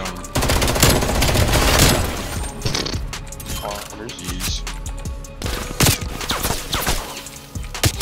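Rapid automatic gunfire from a Call of Duty Black Ops Cold War match crackles in loud bursts with mechanical clatter, close and punchy, alongside brief talk from players.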